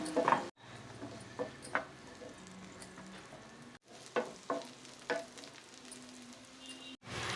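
Boiled sweet corn roasts in butter in a pan, producing a soft steady sizzle with occasional close spoon clicks and stirring scrapes, broken by brief silent gaps.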